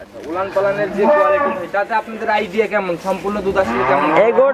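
Several cows moo loudly and close, in long overlapping drawn-out calls, with human voices mixed in among them.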